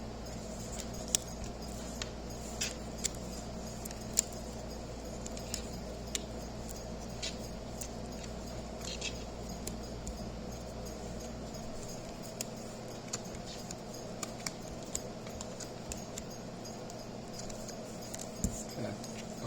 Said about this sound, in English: Now let's lay down the cards.